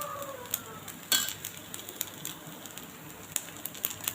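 Sago dosa cooks in oil on a hot pan, a soft continuous sizzle broken by sporadic sharp crackles and pops, heard close and fairly faint.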